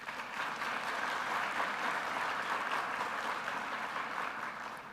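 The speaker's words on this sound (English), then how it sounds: "Let's give a round of applause." A large audience at a college fall convocation gives a sustained round of applause, even and continuous clapping heard from a distance, fading slightly at the end.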